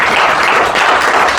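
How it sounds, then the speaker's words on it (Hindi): Dense, steady applause from a large seated audience at a business seminar, continuous broadband clapping with no breaks and no voices over it. "ये एक बार वक्त साहब के लिए तालियां बजा सकते हैं आप।"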